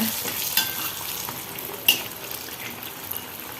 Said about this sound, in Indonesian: Kita goreng tempenya ya.